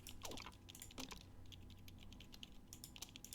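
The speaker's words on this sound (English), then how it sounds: "Just typing." Rapid keyboard typing in the video game There Is No Game, a steady run of crisp, close key clicks with a few louder taps, heard alone without talk.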